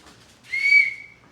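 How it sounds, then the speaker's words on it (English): A small plastic survival whistle from a sardine-can survival kit gives one shrill, steady blast of about a second, close and fairly loud, with no talking. "Alright, so we got a functioning whistle"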